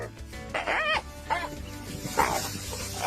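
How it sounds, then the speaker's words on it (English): A dog barks at an iguana during an animal confrontation, giving about three sharp, yelping barks spread across a few seconds over a steady background hum. "This dog is clearly better at barking than acting"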